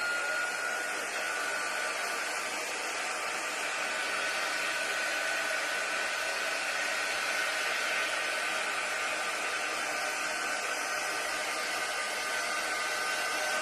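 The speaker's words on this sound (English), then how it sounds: "I'm going to use our little drying tool here" A heat drying tool set on high blows warm air onto paste in a continuous, even hiss that holds steady throughout, close by with no talking.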